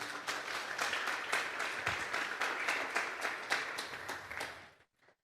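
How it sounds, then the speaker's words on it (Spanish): Church congregation applauding loudly during a Sunday morning service, sustained dense clapping with faint cheers that tapers off and stops at the end. "Den un fuerte aplauso pues al Señor."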